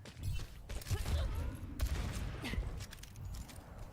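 Gunfire in a one-on-one video game match, a dense burst of shots fired around a generator, with loud rapid reports over a rumbling game background.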